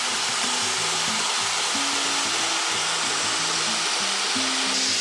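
A Titangrinder Top Pro backstand belt grinder runs at low speed, giving a steady airy whir with a low, stepping motor hum, close and unbroken throughout.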